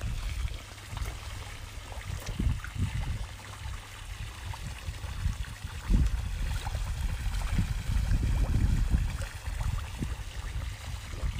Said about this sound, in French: La cascade est en route